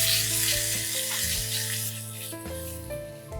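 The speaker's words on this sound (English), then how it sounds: "Let's saute the mushrooms." Mushrooms sauteing with soy sauce in a hot pan give off a loud, steady sizzle with a bright hiss throughout. Steady background tones run beneath it, and no one speaks.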